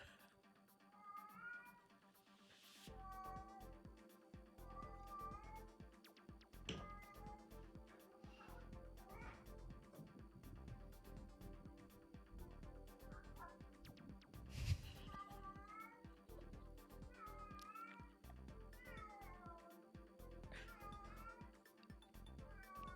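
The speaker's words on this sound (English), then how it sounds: "that's actually the sound my cat makes, literally." A pet cat meowing repeatedly in a played-back recording, a series of clear rising and falling meows spaced every couple of seconds over faint room noise and clicks, fairly quiet overall.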